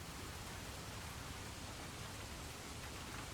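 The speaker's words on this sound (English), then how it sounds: "The rain sounds are a good lullaby." Steady rain in the Lone Wolf video game: an even, continuous wash of rainfall, soft and fairly faint, with no other sounds over it.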